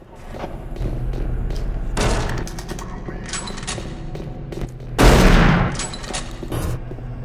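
In the Doom 3 VR video game, loud bursts of gunfire and heavy booming blasts come in clusters, with a particularly strong shotgun-like blast midway, against a murky background rumble.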